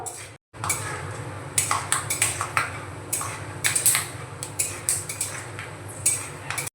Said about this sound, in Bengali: বাটিতে কিছুটা চিনেবাদাম নিয়েছি, বাদামটা ভেজে নেব